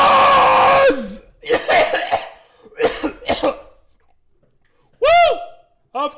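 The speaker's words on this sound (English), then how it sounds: "That wasn't choke, that was coughing." A woman coughs and clears her throat hoarsely right after screaming, a few sharp close bursts separated by pauses, followed by brief voiced squeals.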